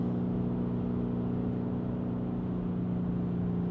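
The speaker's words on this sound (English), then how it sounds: "Ooh, you can hear the turbos." A Lamborghini Urus on the highway, with a steady, smooth low engine drone and turbo hum heard from inside the cabin, constant and moderately loud with no talking.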